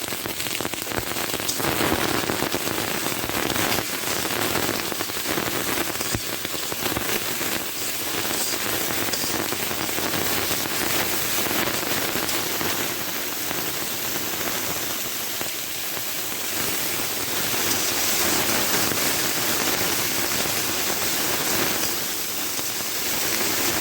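Soybean chunks and potato fry on a low flame, giving a dense, continuous hiss like steady rain that stays even throughout, with no voices.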